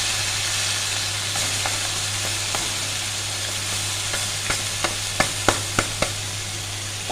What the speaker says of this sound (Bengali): পেঁয়াজ আদা রসুন আর হচ্ছে লঙ্কা, ধনের গুঁড়ো জিরের গুঁড়ো দিয়ে ভালো করে মশলাটা কষিয়ে নিই